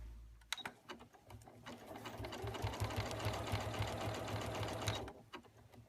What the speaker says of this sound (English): take it over to the machine, and do my raw edge applique technique